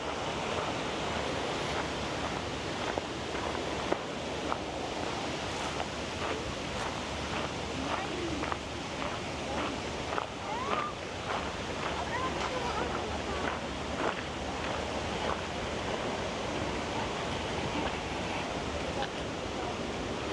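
Mountain runoff in Ortisei, Italy, cascades down a hillside structure built to slow the water, a steady, dense rushing roar that fills the scene without a break for the whole stretch.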